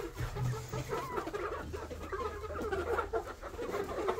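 A flock of Egger chickens clucks and mutters as they are herded out of their coop on a farm, a busy, continuous flock sound with a low background hum.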